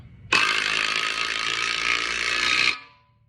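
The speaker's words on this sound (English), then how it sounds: "Just the standard impact gun. Buzz it down until it's tight." A single loud burst of an impact gun whirring for about two seconds as it tightens a nut, then cutting off and winding down, close by.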